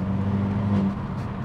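A 2021 Abarth 595 Competizione at around 60 mph with the throttle just lifted, a loud steady engine drone that dips and softens partway through, heard from inside the car with no talking.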